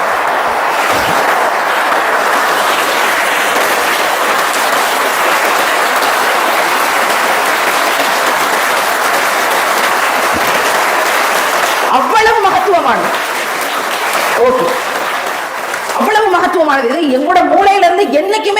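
A large crowd applauds continuously for a long stretch, a dense steady roar of clapping, with a voice speaking briefly near the end.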